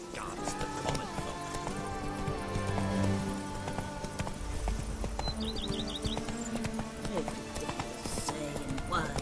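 Roach, Geralt's horse in The Witcher 3: Wild Hunt, gallops with steady rhythmic hoof clops under game music and a singing voice, moderately loud throughout.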